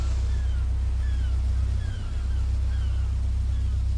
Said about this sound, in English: I'm gonna idle that engine back just a little bit.